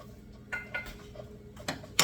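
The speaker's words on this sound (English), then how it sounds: "Stir your seeds. Make sure they do not burn." Sesame seeds being stirred while they lightly toast in a pan for a monkfish paella, giving a few sparse clicks and scrapes of a utensil against the pan with quiet pauses between.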